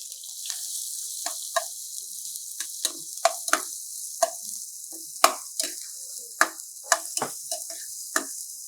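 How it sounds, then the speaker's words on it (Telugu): Onions sizzling in a pan of hot oil with bay leaf, a steady bright hiss punctuated by frequent sharp crackles and pops, close and clear with no talking. "దీంట్లో ఉల్లిపాయలు వేసేస్తామండి"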